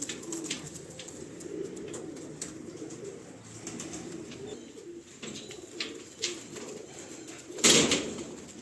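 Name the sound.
pigeons cooing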